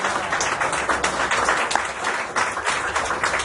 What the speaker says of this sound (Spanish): ¿Cuánto le damos un aplauso al Señor por eso,